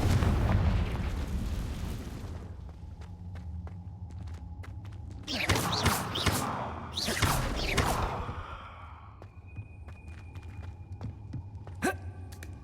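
Confringo fire-spell explosions in the video game Hogwarts Legacy: a deep booming rumble fades out, then two louder blasts with crackling debris follow in quick succession, and sharp impact clicks come near the end.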